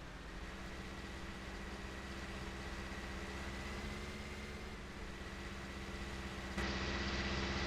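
Tractor engine idling in the Farming Simulator 19 video game, a steady low droning hum with even tones that holds for the whole stretch, with no talk over it.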